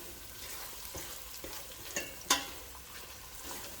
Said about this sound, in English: So we're just going to stir this a bit.